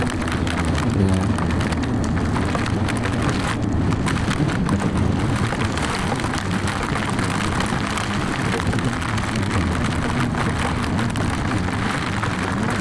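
Hailstones beat down during a motorcycle tour on a BMW NT1100 between Muirkirk and Loch Doon, a dense, steady rattling hiss that runs unbroken through the whole stretch with engine and wind rumble underneath.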